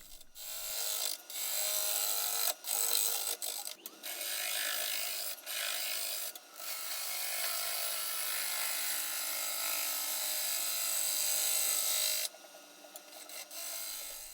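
A 5/8-inch V bowl gouge rough turns a butternut wood bowl on a lathe, giving a steady broadband scraping hiss that runs almost unbroken, with brief pauses as the tool lifts off the spinning blank.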